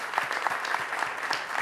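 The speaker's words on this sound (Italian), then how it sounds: "Un applauso!" Steady applause from a live audience at the 2011 Seven Live TV contest final, dense and continuous clapping filling the whole short moment without any speech.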